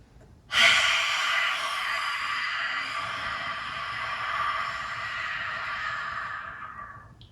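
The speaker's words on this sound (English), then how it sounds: "we're creating this deep inhale and then a nice long exhale" During a yoga breathing exercise, a long breathy exhale starts abruptly and holds steady for around six and a half seconds before tapering off, close to the microphone and alone.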